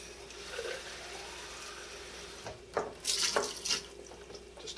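Tap water runs into a Rollie vertical egg cooker being filled for cleaning, a steady splashing stream that swells and gurgles louder toward the end, with no talking.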